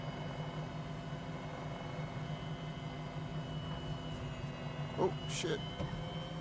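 An MD500E helicopter in Microsoft Flight Simulator 2020 sets down near Queenstown. Its engine and rotor make a steady, moderate drone, with a brief bump toward the end. A man exclaims briefly.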